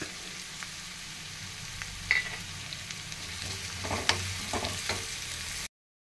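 Crushed garlic, about seven or eight cloves, sautéing in hot oil with onions for a bitter gourd curry, a steady close sizzle with a few louder spits and stirring scrapes, no talk.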